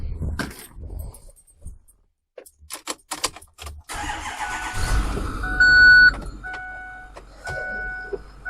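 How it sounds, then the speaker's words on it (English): A fire department brush truck cranks and its engine catches after a few scattered clunks, then settles into a rumbling idle as the truck pulls out of its stall, with short electronic beeps near the end. "And pull the truck out of the stall."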